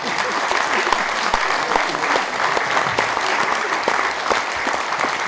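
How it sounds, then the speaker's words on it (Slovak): An audience at a sports award ceremony gives winner Štefan Mrva a loud, sustained round of applause, dense clapping throughout with no talk. "pánovi Štefanovi Mrvovi venujte teraz veľký potlesk"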